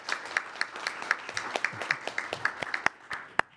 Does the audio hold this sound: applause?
yes